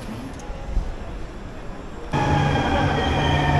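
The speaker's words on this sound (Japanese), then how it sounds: "これが電車？" Train in Málaga, Spain, heard from close by: a low rumble that jumps to a louder, steady roar with a sustained tonal whine partway through, with no talking.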